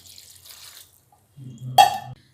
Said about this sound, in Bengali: আর এর মধ্যে জল দিয়ে দিচ্ছি